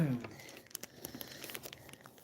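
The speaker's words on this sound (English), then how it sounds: "now I got the little plastic bags" Small plastic bags crinkle and rustle during backpacking food packing at home, a string of sharp, close crackles and crumples following a brief voice at the start.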